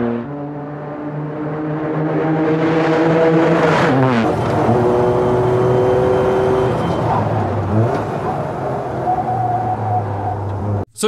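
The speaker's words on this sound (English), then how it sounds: "You can listen to that as a hydrogen-powered race car." A hydrogen-powered Toyota Corolla GR hatchback race car roars loudly up close, revving through rising and falling gear pitches with a sustained engine wail, no talk over it.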